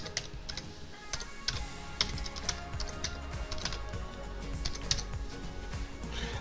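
A node name being typed on a computer keyboard: quick, light clicking keystrokes in an irregular stream, close but soft against a steady electronic hum.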